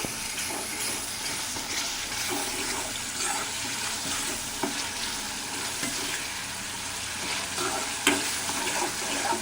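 Masala frying in plenty of oil for a small fish curry, a steady dense sizzle holding at an even level throughout, with occasional louder crackles and spatters close by.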